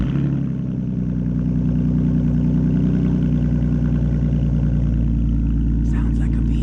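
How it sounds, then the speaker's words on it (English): A Ford Mustang S550 engine with a muffler resonator delete idles with a deep, throaty rumble and steady low burble, loud and close, with a faint clatter near the end. "here's a muffler resonator delete"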